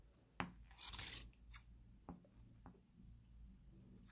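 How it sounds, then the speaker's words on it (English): Scissors cutting through yarn strings while finishing a crocheted Santa or elf hat, a few close, quiet snips and rasping cuts with short gaps between them. "just get the scissors and go right in the middle"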